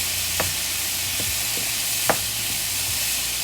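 Peppers and other breakfast casserole ingredients sizzle steadily in a pan, with a few light scrapes of a stirring utensil breaking through the constant frying hiss.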